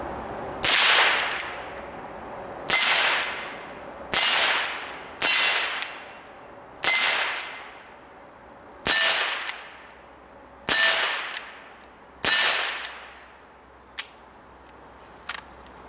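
Henry lever-action .22 rimfire rifle fired in a slow steady series of about nine sharp shots, each a crisp crack with a short decaying tail, evenly spaced a second or two apart, with no talking.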